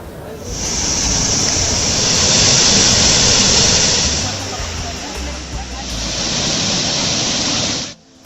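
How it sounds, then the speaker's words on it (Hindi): Water rushes between rocks in a stream: a loud, steady broadband roar that holds throughout, dips slightly midway, then cuts off at the end. "चट्टानों के बीचों बीच से कलकल बहती पानी की धारा"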